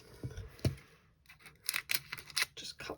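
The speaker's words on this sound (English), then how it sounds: "Just cut the tape off" Scissors snipping through tape in a glitter poinsettia Christmas craft, a few soft handling thumps followed by a quick series of crisp close cuts and crinkles.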